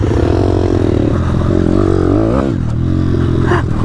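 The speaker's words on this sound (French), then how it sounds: "t'es sur un délire pit bike, un vrai pit bike" A pit bike rides close by, its small engine buzzing loud and steady with pitch rising and falling as it revs through turns.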